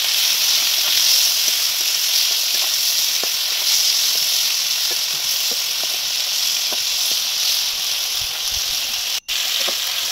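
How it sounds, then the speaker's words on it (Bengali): Prawns fry in oil with salt and turmeric, a bright continuous sizzle with scattered small pops and crackles that runs for ten seconds, broken once by a brief dip. "চিংড়ি মাছগুলোকে এবার তেলে ভেজে নেবো লবণ আর হলুদ দিয়ে"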